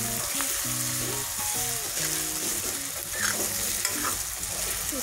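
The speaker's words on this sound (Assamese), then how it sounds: "এইখিনি দি 1-2 মিনিটমান ভালদৰে ভাজিম।" Ginger and whole garam masala paste frying in a pan, with a dense, close sizzle and repeated stirring scrapes running throughout over faint background music.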